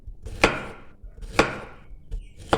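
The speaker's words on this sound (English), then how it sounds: "Peel the ash plantains, wash and cut it this way." Three crisp knife chops cut peeled ash plantains on a board, each a sharp close thud separated by short pauses, with a fainter fourth tap between them.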